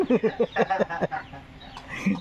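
A chicken clucks in short repeated bursts close by, with a brief higher squawk near the end.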